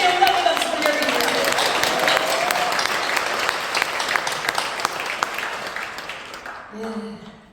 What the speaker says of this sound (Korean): 하나님의 영광을 박수 올려드립니다.